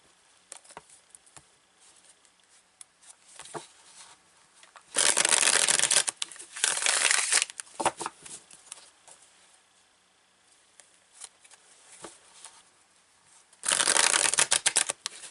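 Tarot cards being shuffled in two loud riffling bursts, with softer card handling and light taps between them; no voices.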